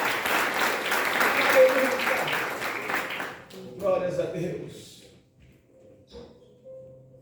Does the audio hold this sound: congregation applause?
yes